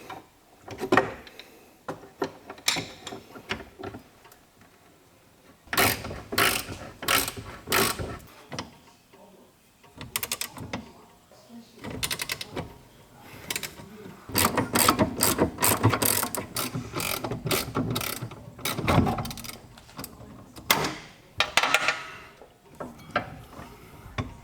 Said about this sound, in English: I'm just going to crack the 4 bolts on that.